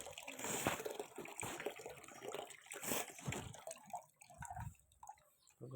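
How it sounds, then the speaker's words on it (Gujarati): Water runs from a tap into a bucket with a steady splashing, gurgling rush, then cuts off and leaves only faint drips and a quiet room. "આપણે પાણીનું બકડી ભરી ગયું હતું પેલા પાણી બંધ કરી દઈએ।"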